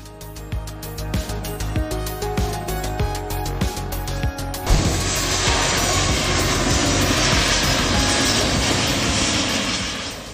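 Twin-engine airliner landing with jet engine thrust reversers deploying: a steady cabin roar with clunks and knocks, then a sudden surge into a loud, sustained broadband rush of reverse thrust that holds and slowly eases off.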